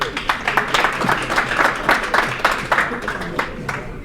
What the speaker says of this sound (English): So round of applause to John Emmons, everybody.